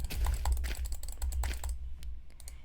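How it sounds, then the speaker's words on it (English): Rapid mouse clicks during Minecraft Alpha 1.1.2_01 gameplay, a dense run of sharp close taps for about a second and a half, then thinning to a few scattered clicks over a low hum. "Mouse clicking ASMR."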